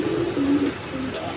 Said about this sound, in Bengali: এখানে আরেক পেয়ার বোম্বাই কবুতর আছে